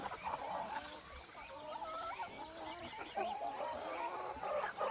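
A chicken clucks amid a busy barnyard of fowl, with several overlapping chirps and clucks at moderate distance and a steady background hum running throughout.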